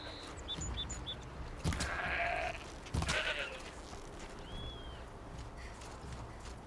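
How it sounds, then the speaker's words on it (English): Goat bleating in the Horizon Zero Dawn video game: a couple of short bleats over a busy game soundscape with brief loud bursts of other effects. "I heard goat."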